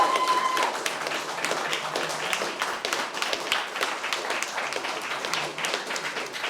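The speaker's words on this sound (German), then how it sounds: "Dafür nochmal einen fetten Applaus." A German studio audience at a Cologne Taskmaster community show claps in sustained applause, a dense, even patter of many hands that holds steady throughout at a moderate level.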